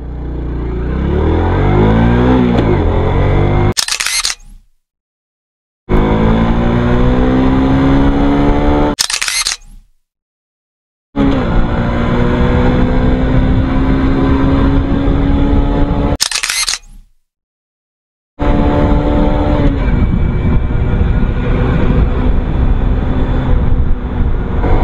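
A Suzuki Smash FI motorcycle accelerating hard in an acceleration test: loud engine revving that rises in pitch through each gear, broken by brief silent cuts between shifts, continuing strongly to the end.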